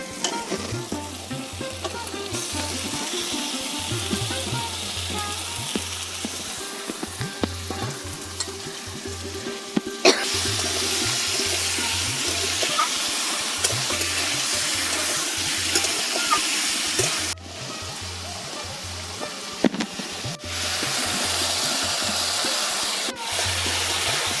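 Meat frying in spiced oil in a pan for a village-style Bangladeshi dish, with a steady, loud, close sizzle and spatter that runs throughout, broken by occasional stirring scrapes and no talking.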